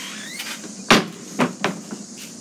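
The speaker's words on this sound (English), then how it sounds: "shut the door." A door being shut: one sharp, fairly close thud lands near the middle, followed by a few lighter clunks and knocks in a quiet room.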